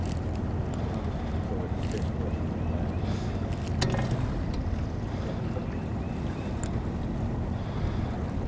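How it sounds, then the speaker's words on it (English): A small fishing boat on a river drifts and slows amid steady low rumble, wind buffeting the microphone and water noise, continuous and close with no distinct engine change. "May get over there and slow the boat down."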